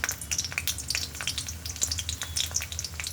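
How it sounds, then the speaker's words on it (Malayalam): Garlic and ginger frying in oil in a pan, a steady close crackling sizzle with dense spattering pops throughout, no voices. "വെളുത്തുള്ളി ഒന്ന് നല്ലതായി വറവും."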